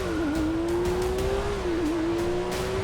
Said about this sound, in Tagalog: Grabe, ang bilis din ng sasakyan na to, oh.